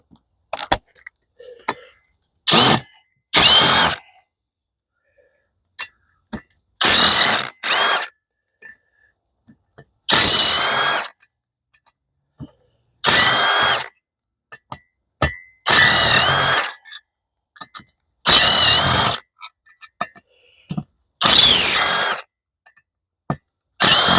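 Repeated loud bursts of a 1/2-inch impact wrench rattling during teardown of a blown Kawasaki FB460V engine, each a second or two long, separated by pauses with small clicks and clanks.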